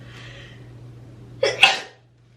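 A quick inhale followed by a single sharp, loud sneeze nearby, over a faint steady hum.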